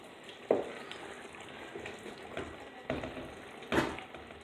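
Chicken in a creamy spinach and milk gravy cooks in a pan over a high flame, making a faint, steady bubbling sizzle broken by a few sharp pops or spoon taps.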